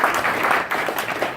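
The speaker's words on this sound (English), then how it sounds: "I'll give him a round of applause" An audience at a jazz club claps for arranger Dr. Gene Marlowe after an Afro-Cuban orchestra set. The applause is dense and steady through the whole short stretch, with no voices over it.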